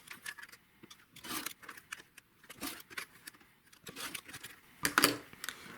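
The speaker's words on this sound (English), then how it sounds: "Now we're going to cut on all 4 of the lines." Fabric being cut along stitched lines of a quilt block to make half square triangles, heard as quiet, intermittent crisp slicing and scraping bursts with faint clicks, no talking.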